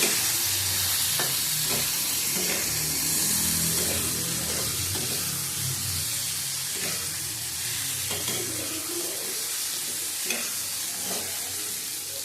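Turmeric and a little Kashmiri chilli powder sizzle in a pan for a spicy potato curry, a steady crackling fry with occasional scraping stirs, close and continuous, no talk over it.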